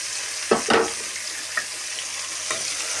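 Broad beans fry in a hot pan with a steady sizzle, while a few sharp scrapes and clatters from stirring come through near and clear.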